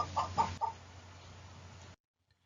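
A hen gives a few quick clucks near the start, then a low steady hum and faint hiss carry on alone before cutting to silence.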